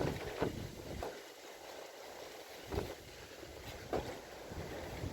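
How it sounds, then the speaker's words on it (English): Wind blowing outdoors on a morning, a faint, steady rushing with low gusty buffeting across the microphone and a few brief thumps, no voices present. "But it's very windy."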